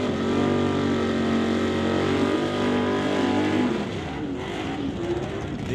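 A high-horsepower Outlaw 275 small-tire drag race car from 8 Mile Racing, running a qualifying session at the West Coast Outlaw Shootout, roars loudly as it accelerates, its rising engine tone fading slightly as it pulls away.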